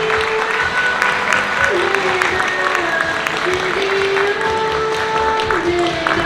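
Wedding guests applauding steadily, a continuous wash of clapping from a seated crowd with background music and a few voices underneath.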